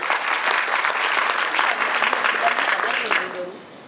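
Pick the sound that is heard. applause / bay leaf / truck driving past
applause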